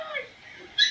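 A new puppy whimpers and cries in short, thin, high whines, close and fairly loud, ending with a sharper yip-like cry, over a quiet background.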